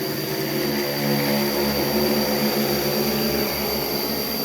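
An agricultural spraying drone lifting off over a brinjal field to spray Beauveria and Metarhizium fungus, a loud, steady, close propeller whine and drone without speech.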